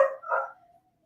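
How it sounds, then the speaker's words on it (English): A dog gives a single short bark followed by a softer trailing yip, brief and somewhat distant, with silence after. "Sorry, that's the dog."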